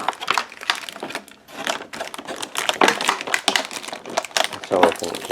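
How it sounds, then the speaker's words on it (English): Tape is tugged and peeled off the plastic packaging of a Nendoroid figure box, giving close crinkling and crackling with irregular rips, while someone talks over it. "I'm having problems just taking the tape off so I can get the stand"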